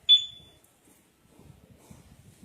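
A Mio Soul i 125 motorcycle two-way alarm gives one sharp, loud electronic beep at the start that fades quickly, followed by faint low rumbling and handling noise.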